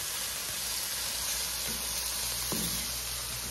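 Meat fries in bacon grease with a steady, close hiss and sizzle, broken by a couple of faint clicks, with no talking over it.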